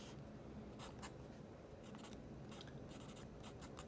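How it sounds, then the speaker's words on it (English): A TWSBI Go fountain pen with a broad nib scratches across paper in short, steady strokes, with soft nib scrapes repeating close up against a quiet background. "I'll do a quick writing sample."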